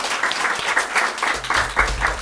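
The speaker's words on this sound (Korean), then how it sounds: "저희 다음번 공원표 형제님께 박수 한번 쳐드리도록 하죠." A church congregation at a youth revival service claps briefly, a short burst of moderately dense, close applause with a low rumble underneath, lasting just over two seconds.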